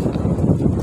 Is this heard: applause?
no